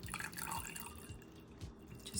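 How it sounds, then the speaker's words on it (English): Water trickles and drips onto a plant cutting with a stem problem at its base, a soft close-up pour with small splashy droplets continuing steadily throughout. "Just giving it some water."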